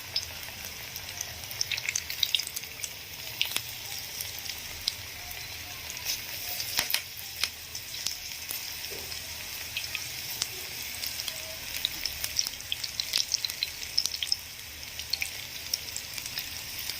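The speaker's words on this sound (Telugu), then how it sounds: "ఆయిల్ మరిగిన తర్వాత ఇందులోకి మనం ఒక్కొక్కటిగా చిట్టుగారెల్లాగా మనం రెడీ చేసుకున్న పిండిని వేసుకోవాలి" Chitti garelu batter made with black-eyed peas deep-fries in hot oil, a steady close sizzle with scattered pops and crackles throughout, and no talking.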